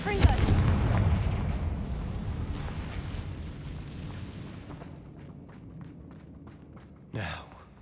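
A Confringo fire spell explodes in the video game Hogwarts Legacy, a loud, deep rumbling blast that slowly fades over several seconds, followed by a short whooshing burst near the end.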